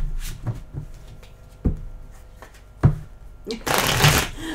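Tarot cards are shuffled in several short riffling bursts, with a few sharp taps and a longer, louder shuffle near the end, close and fairly clear with a little quiet talk.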